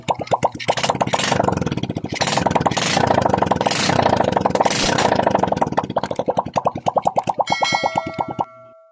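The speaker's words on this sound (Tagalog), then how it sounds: "narinig natin ang unang andar ng ating makina" A Honda XRM 125 carbureted motorcycle engine runs with its stock muffler, a loud close rapid putt-putt firing rhythm that stays steady, then slows into uneven pops before cutting off.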